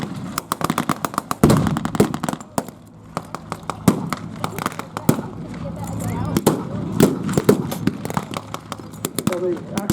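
A wartime re-enactment battle with rapid cracks of gunfire and heavy artillery bursts, some near and loud and some distant, rolling on through the whole stretch while a commentator talks over it.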